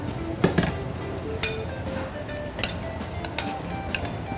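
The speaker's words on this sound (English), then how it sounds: "a couple spoons of this mayonnaise, and I'm gonna stir it up" A spoon stirs crab meat with mayonnaise in a bowl, giving scattered light clinks and scrapes of metal against the dish, fairly close, with no one talking.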